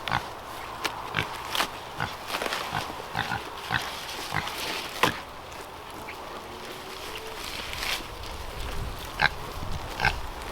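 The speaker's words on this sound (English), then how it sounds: "pigs." Pigs oinking and grunting in short, irregular bursts over a constant noisy outdoor background, with some higher squeals scattered through.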